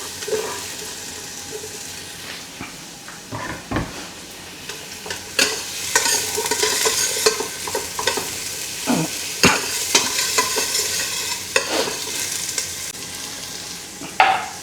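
Onion and garlic sauté in a pan for Filipino pinakbet, with a steady close sizzle broken by repeated spatula scrapes and clanks against the pan and no talking.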